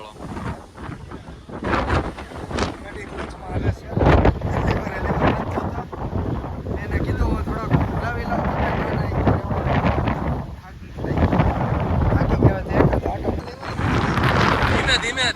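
Heavy wind buffets the front loading area of a RoRo ferry's deck, loud rumbling gusts surging and easing, with a voice talking underneath.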